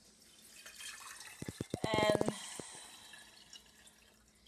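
Water kefir strained in a kitchen, with a quick burst of liquid drips and trickling splashes into a jar, close and fairly quiet, fading into soft room noise; a voice murmurs briefly.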